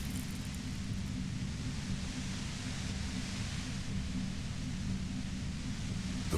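A compressor in the video game Infra gives off violent white noise: a dense, constant hiss with a heavy low roar beneath it, steady and loud for the whole stretch, with no voices.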